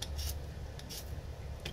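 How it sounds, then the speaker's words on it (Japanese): Pets crunching dry kibble in a kitchen while potatoes and sweet potatoes cook, heard as faint, scattered crisp crunching bursts over a steady low hum. "今ちょっとレオがリルクがカリカリを食べてましてね、後ろでカリカリカリ音も鳴ってますが"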